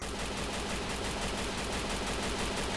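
Rapid automatic gunfire rattles without a break in the Free Fire shooter game, a dense continuous burst of shots that stays loud and close for its whole length.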